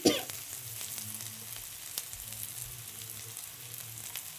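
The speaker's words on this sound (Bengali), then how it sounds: "এবার এটা অল্প করে ভেজে নেব আমরা" Onion and chopped chili fry in a pan with a steady, moderately loud sizzle. A clatter comes at the start, occasional light stirring taps follow, and a faint low hum runs underneath.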